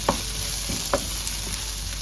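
Onions fry in a pan with turmeric being stirred in for a mutton bone curry, a steady close sizzle with two brief scraping clinks of a spoon against the pan, and no voices.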